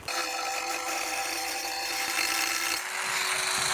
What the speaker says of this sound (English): long neck Proxen angle grinder. So this is really good for precise work. I've got a 1mm blade on there.